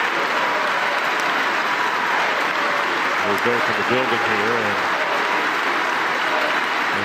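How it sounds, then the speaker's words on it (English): A full-house college basketball crowd at Smith Center applauds steadily during an NC State versus North Carolina men's game, a dense, continuous roar of clapping with a commentator talking over it. "the applause from this full house at Smith Center for him"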